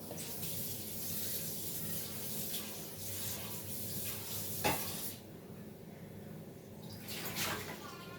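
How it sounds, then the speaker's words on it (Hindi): Tap water runs steadily into a kadai (wok) as it is washed after frying pakoras, a faint hissing splash with a few clanks and scrubbing sounds, close and quiet. "और मैं ये कढ़ाई धो लेती हूँ।"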